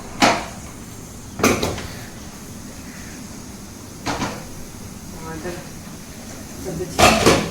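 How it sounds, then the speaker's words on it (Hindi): Metal clunks and clatter as a pressure cooker is lifted off a kitchen stove, four separate knocks spaced a couple of seconds apart over quiet room noise. "अब इसको मैं उतार देती हूँ कुकर को।"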